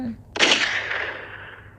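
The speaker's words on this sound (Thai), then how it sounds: "เสียงปืน ก็แผ่สนั่นลั่นป่า" A single sharp, loud gunshot cracks out in a forest, then rolls away in a long echoing tail that fades over about a second.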